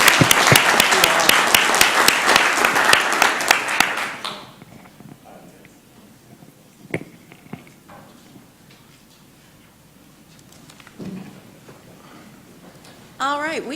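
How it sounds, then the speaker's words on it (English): Audience applause at a city council meeting, rapid rhythmic clapping for about four seconds that stops abruptly, followed by a quiet room with scattered small noises and brief talk. "Let's give them a big round of applause."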